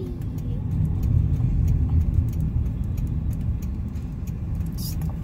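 A car on a road in Maple Ridge, British Columbia, heard from inside a vehicle as a steady low rumble of engine and tyre noise, with faint rattling on top.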